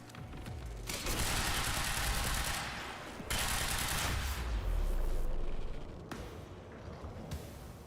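Automatic gunfire from the video game Quantum Break comes in loud, close, sustained bursts that break off briefly and start again, with heavy booming impacts underneath.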